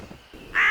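A cartoon bird lets out a single short, loud caw near the end of an otherwise quiet moment.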